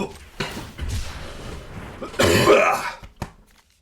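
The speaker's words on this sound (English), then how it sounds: "Ugh, I get too excited, I start coughing." A man coughs and clears his throat several times in short, harsh bursts at close range, with one louder fit in the middle.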